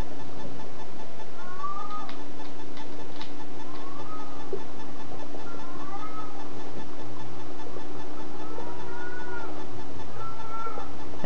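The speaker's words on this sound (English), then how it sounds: "There you are, kitty cat." Repeated short meows from a cat in the horror video game Erie, spaced at irregular intervals over a steady humming ambient background, moderately close, with no talking.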